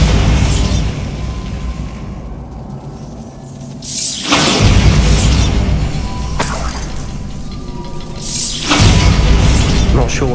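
Bombarda blasting spells explode in Hogwarts Legacy, loud booming bursts at roughly two-second intervals, each a broad crash dying into rumble, amid shattering debris and game effects.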